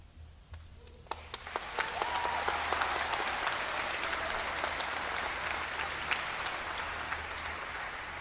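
Convocation audience bursting into applause: scattered first claps quickly swell into sustained, dense clapping from a large crowd in a hall, holding steady and moderately loud throughout.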